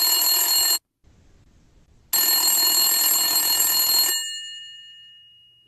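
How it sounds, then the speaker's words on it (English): A cell phone ringing during a call, with loud repeated bell-like electronic ring bursts, a short gap of silence, then a second long ring that fades away at the end. "Let us call him in his cell phone"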